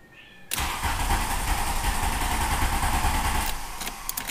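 A Volkswagen Golf diesel engine cranks after a glow plug cycle with a sudden loud start, then a steady, rough, near churning for several seconds that eases slightly toward the end.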